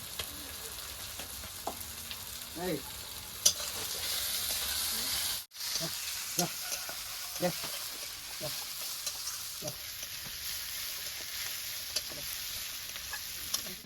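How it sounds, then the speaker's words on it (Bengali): Ginger and garlic pastes frying in mustard oil in a pan, a quiet steady sizzle broken by irregular spatula scrapes and taps, with one brief cut near the middle. "মশলা ভাজা হয়ে গেছে"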